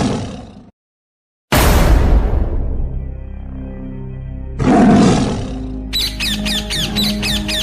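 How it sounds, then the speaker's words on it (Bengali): Several loud, close tiger roars in the Sundarbans mangrove forest rise and fade, separated by a short silence, followed by dramatic whooshing and booming sound effects. "ওই দেখ বাঘ একটা মানুষ নিয়ে বসে আছে"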